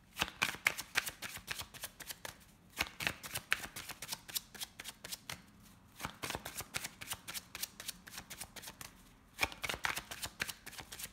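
Lenormand oracle cards shuffled by hand in several rounds: dense, crisp flurries of card flicks separated by short pauses, close up with no talking.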